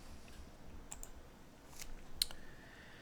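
A few faint, scattered clicks of typing on a computer keyboard, entering a search on an Ubuntu Linux desktop, close but quiet with no talking.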